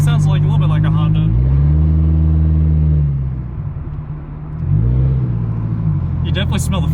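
A Nissan 240SX with its muffler deleted and a worn catalytic converter still fitted idles and revs loudly up close, its raspy exhaust note rising and falling twice, with people talking over it.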